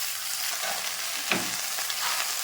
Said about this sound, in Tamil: கீரை போட்டு வதக்குவோம்